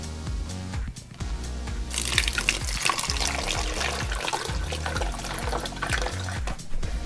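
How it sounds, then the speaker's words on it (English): Water is poured through a funnel into a clean plastic bottle, a steady close trickle and splash with gurgling bubbles, faint and continuous throughout. "Just take your bottle and a funnel and fill your bottle about halfway full with water."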